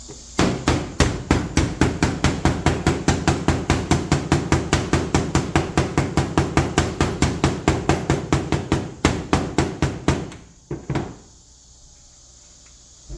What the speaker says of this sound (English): You may have to hammer it down.